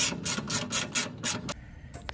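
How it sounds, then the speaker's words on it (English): A 12 mm socket on a ratchet clicks out a skid plate bolt on a Lexus GX460, six quick, close, rasping ratchet strokes in a steady rhythm, then stopping, followed by a faint metallic tick. "I'll use a 12 millimeter socket and pull out that bolt"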